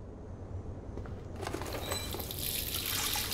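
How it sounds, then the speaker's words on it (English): Running tap water at a sink for face washing in the video game Life is Strange, quiet at first, then the stream swells and splashes steadily and close by. "Feels so good to wash my face after all that chlorine and hiding."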